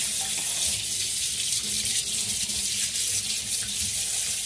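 Water runs from a kitchen sink faucet to rinse a pan, a steady, close hiss and splash that keeps on without a break and has no talk over it.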